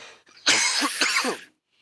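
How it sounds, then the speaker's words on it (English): A single close, harsh cough with a rough throat-clearing quality, a brief burst that ends abruptly into silence. "It just made me cough."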